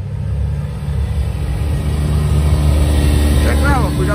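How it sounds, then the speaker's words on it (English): A Mazda Miata rolling into a car meet in Portsmouth, New Hampshire, with a steady low engine rumble and a faint rising whine near the end, heard under loud nearby chatter. "This is a sick Miata rolling in."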